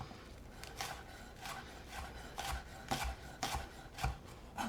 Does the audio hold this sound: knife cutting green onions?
yes